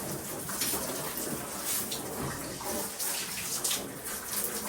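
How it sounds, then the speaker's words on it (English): Water runs steadily as a bathroom surface is rinsed during cleaning, a continuous broadband splash and spray at close range with small fluctuations, heard alone without talk. "And I do a quick rinse."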